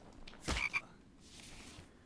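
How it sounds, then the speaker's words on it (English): A single short frog croak sounds close by, a brief double-pulsed call over faint outdoor background hiss. "I can see a frog that thinks he's going to get away."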